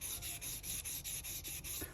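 An acrylic pen blank is sanded on a lathe in steady back-and-forth strokes, a soft rhythmic hiss of about nine even passes, close up with no talk.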